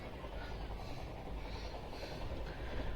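A passenger train heading home rolls along with a steady low rumble and faint rattling, heard from inside the coach, with no pauses.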